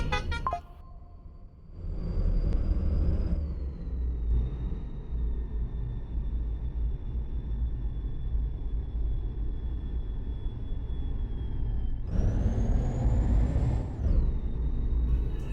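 Tata 16-wheel lorry hauling a heavy load in the Truck Master Indian game, a low rumbling diesel engine with a steady high turbo whine that rises sharply near the end before settling, continuous throughout.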